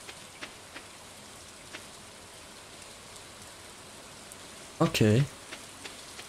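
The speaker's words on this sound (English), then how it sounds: "it's raining." Soft, steady rain falls in the Stardew Valley farming game, a faint continuous hiss with scattered light drip ticks, briefly interrupted by a short spoken word near the end.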